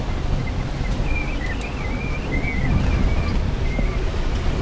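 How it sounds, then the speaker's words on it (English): Choppy North Sea waves at night in winter, heard from a boat as a steady, loud rush of surf and wind noise that never lets up, with no voices. "Choppy waves"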